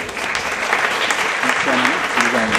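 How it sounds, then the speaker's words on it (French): A conference audience applauds, the clapping dense and continuous throughout, with a voice speaking faintly over it near the end. "Oui, vous pouvez vous applaudir."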